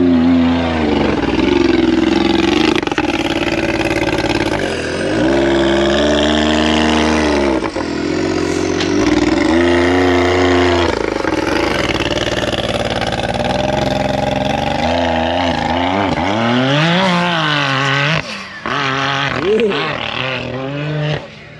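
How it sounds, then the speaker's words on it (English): A Can-Am Maverick R off-road vehicle revs and lets off the throttle, its engine dropping to two cylinders with cylinder deactivation, loud and close with rising and falling pitch sweeps during a group sand dune ride at Little Sahara. "Maverick R's do cylinder deactivation when they let off the gas, so it's only two cylinders."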